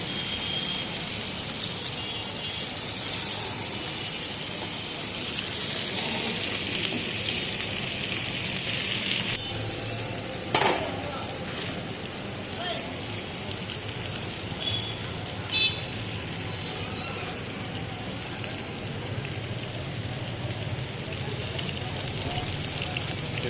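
A tuna steak fries in butter with garlic in a pan, giving a continuous bright sizzling hiss throughout, broken by a couple of short clinks partway through.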